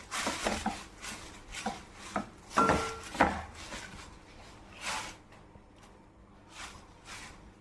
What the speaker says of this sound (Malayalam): കുറേശ്ശെ അവലിട്ട് നമുക്ക് നല്ലോണം മിക്സ് ചെയ്തിടാം